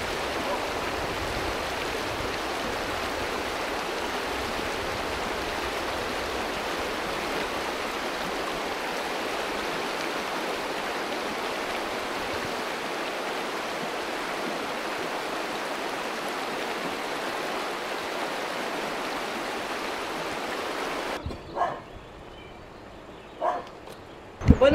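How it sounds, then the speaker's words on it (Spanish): The River Paz rushes past close by near cabins and a suspension bridge in cattle country at Palacio Ruiz, a steady broadband roar of flowing water that stops abruptly near the end, followed by faint sounds. "El río Paz aquí, a mis pies."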